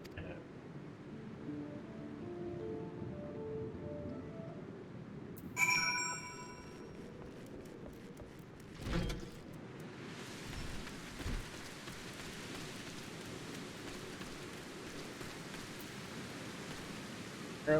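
Steady rain pattering on the ground in a video game desert, a soft continuous hiss throughout with a few faint rumbles and brief game effects, while someone talks over it.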